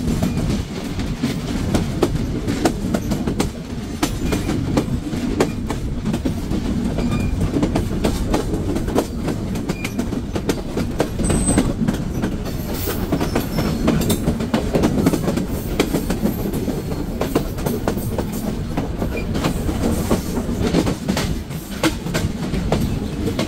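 Chitra Express train rolling along the rails on its approach to Darshana halt, a continuous loud rumble with rhythmic wheel clatter over the joints and no voices, steady throughout.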